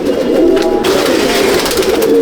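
A flock of pigeons in a fourth-floor rooftop loft in Mominpur keeps up a dense, unbroken cooing, near and fairly loud, with a brief brighter burst early on and no talk.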